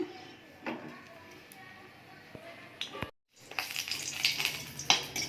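Dried red chillies hit hot oil in a kadai for a bitter gourd, pumpkin and tomato chorchori. Quiet clinks and stirring come first, then after a brief silent gap a loud, crackling sizzle bursts up close.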